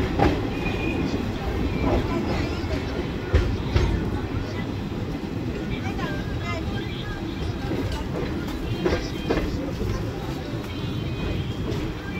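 The Kolkata–Balurghat Tebhaga Express rumbles steadily along the rails into Pakur with a rhythmic clatter and occasional squeaks, heard from inside a carriage with people talking.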